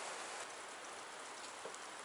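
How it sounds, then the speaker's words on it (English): Steady rain pours down at a mountain campsite, a dense continuous hiss of drops striking surfaces, alone with no voices. "Hopefully this rain stops"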